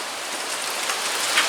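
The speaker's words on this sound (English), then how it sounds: "Finally getting a little rain here in Peculiar." Light rain falling in Peculiar, a soft, steady hiss of drops pattering on surfaces, with no voices heard.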